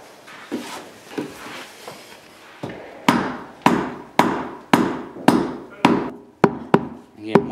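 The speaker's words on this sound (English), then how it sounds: "now I have to hit it with a hammer to loosen it all off" A series of sharp hammer blows on a handmade real tennis ball, about a dozen, landing at a steady rhythm and growing louder and crisper toward the end, with a dull thudding impact.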